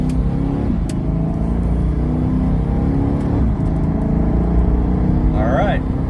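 A car with Powerstop Z26 ceramic low-dust brake pads accelerates toward 60 mph for a braking test, its engine note climbing steadily through a couple of gear changes, loud and close over constant road roar.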